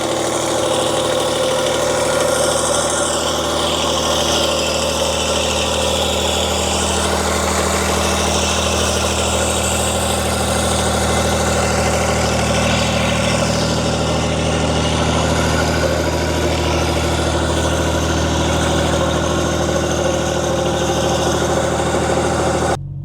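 A Wolfe Ridge 35 SHO box wedge log splitter engine idles loud and steady right after a cold start at 2 degrees, having sat outside overnight. The rumble holds an even, continuous drone throughout, with no talking.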